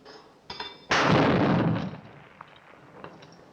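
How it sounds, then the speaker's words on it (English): A rocket gun from an early Sean Connery James Bond film fires one loud, booming blast after a couple of faint clicks, then rumbles and fades over about a second. "these rocket guns are right up to the limit"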